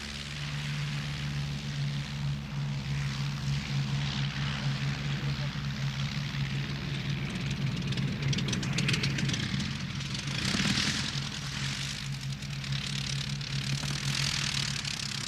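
Propeller aircraft taking off from Croydon, its engines holding a loud steady droning hum with rising rushing roar, continuous and fairly near throughout, with no voices.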